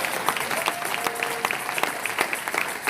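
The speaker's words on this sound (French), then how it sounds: "Est-ce qu'on peut acclamer le Seigneur?" Church congregation clapping and cheering in praise of the Lord, a dense steady applause from a crowd with some faint voices mixed in, continuous and moderately loud.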